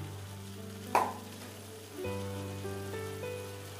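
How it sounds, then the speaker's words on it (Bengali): Prawns drop into a hot pan of fried spices with a brief splash and hiss, after which a quiet, steady sizzle carries on close by. "চিংড়ি মাছগুলো দিয়ে দিচ্ছি।"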